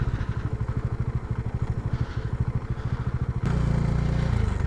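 A motorcycle engine runs steadily with a rapid, throbbing putter while the bike is ridden across a muddy dam bed near Mumbai in the summer season, then the engine note swells louder and rougher near the end.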